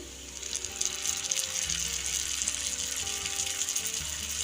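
Finely chopped tomatoes hit onions frying in a pan, raising a steady crackling sizzle at moderate level that continues evenly throughout.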